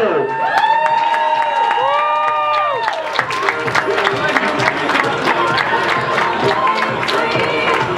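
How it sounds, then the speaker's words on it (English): A live crowd at a festival event cheers, whoops and applauds loudly and continuously, with a voice shouting over the noise near the start. "let's hear it for the crowd"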